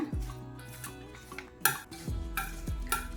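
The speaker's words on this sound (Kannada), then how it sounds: "ಚೆನ್ನಾಗಿ ಮಿಕ್ಸ್ ಮಾಡ್ಕೊಳ್ಳೋಣ" Mixed fruits with jaggery and honey are stirred in a bowl for a rasayana fruit salad, with close, soft scraping and clinking strokes of a spoon repeated a few times and no talking.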